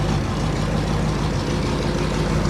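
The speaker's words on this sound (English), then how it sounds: "Listen, it's idling by itself completely fine." A barn-find Chevrolet Bel-Air's engine idles continuously, a steady low rumble, even and unbroken, fairly close, with no voices.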